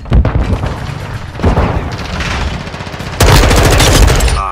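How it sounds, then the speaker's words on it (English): In a Call of Duty Modern Warfare II Domination match, loud rattling gunfire and heavy booms are followed by a sharp stun grenade blast and continued close, intense shooting. "Stun grenade out!"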